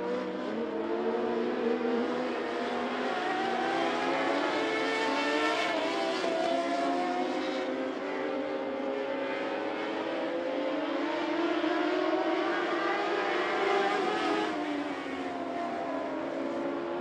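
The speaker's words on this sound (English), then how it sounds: "John Pitts in the 20 continues to lead, but Micah Collins in the 17 starting to" Modlite race cars at I-75 Raceway, with engines droning steadily and rising and falling as the pack circles the track, loud and continuous throughout with no voices.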